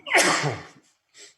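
A single loud, close sneeze with a sharp breathy burst, followed by a brief faint sniff or exhale after a short pause.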